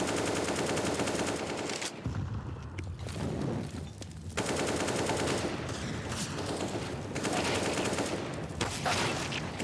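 Rifle sprays in a CS:GO match, dense rapid gunfire bursts close and loud, overlapping in a continuous barrage with brief lulls.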